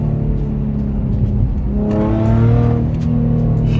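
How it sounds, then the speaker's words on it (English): An Infiniti M35h car engine hums steadily up close, then revs up with a rising pitch before easing back down. "You guys hear that engine?"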